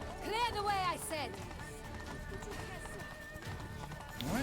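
A horse galloping in The Witcher 3, a quick run of hoofbeats heard under game music, character dialogue and a brief whinny near the start.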